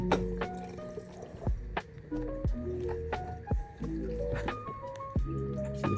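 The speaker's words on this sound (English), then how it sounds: "You hear it draining? Let that shit drain out in there." Fuel draining out of a BMW E60 5 Series fuel pump assembly back into the tank, a quiet, close trickle with irregular drips and liquid squishes, with faint handling noises.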